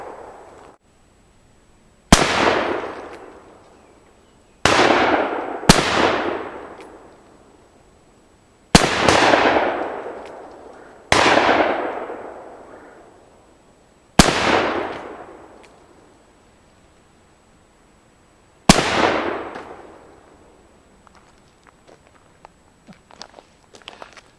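Seven loud, sharp reports from a Traditions Single Action Army clone revolver fired outdoors at targets, each crack followed by a long decaying echo, spaced irregularly a few seconds apart with quiet between.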